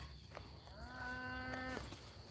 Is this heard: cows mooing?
yes